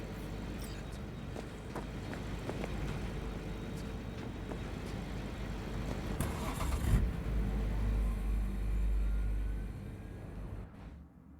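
Car driving in the video game Cyberpunk 2077, with a continuous engine drone and road noise that swells midway, then cuts off abruptly near the end.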